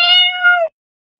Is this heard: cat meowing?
yes